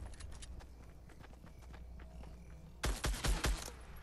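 Rapid bursts of gunfire in the video game Fortnite during a duos match, first as faint distant pops and then a loud, close volley of several quick shots near the end.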